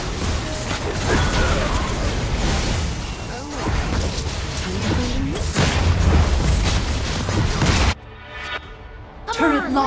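A turret collapsing in the mobile game League of Legends: Wild Rift brings crashing, grinding booms buried in a dense wash of battle effects, followed by a sharp cutoff and a few sparse sounds with a brief voice.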